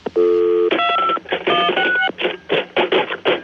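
Telephone keypad tones in a radio ad: a steady dial tone, then a quick series of bright beeping touch-tone presses, loud and close, with short clicks and pauses between the digits.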